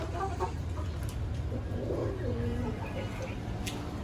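A rooster clucks softly a few times over a steady background hum, with quiet murmuring voices nearby.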